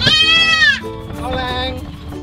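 A goat in a truck lets out a loud, shaky bleat close by, and a quieter bleat follows. Voices talk around the calls.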